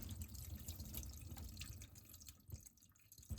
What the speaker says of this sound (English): Then wash the salt with water.